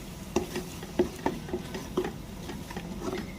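Sev tameta sabzi masala stirred in a pan, with a spoon scraping and tapping the metal in an irregular rhythm over a low sizzle, close and fairly quiet.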